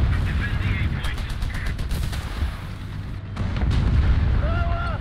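Tank cannon and machine-gun fire in the War Thunder video game, several sharp shots spaced through the clip over a constant low engine rumble, with a brief whine near the end.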